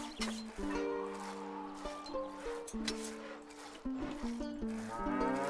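Cattle mooing on a farm in the medieval strategy game Stronghold HD, several long tonal lowing calls overlapping over a busy game soundscape with background music-like tones, fairly loud and continuous.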